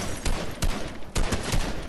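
Rapid gunfire hits a wall in Fortnite, a close burst of several sharp cracks in quick succession over a loud, dense noise bed.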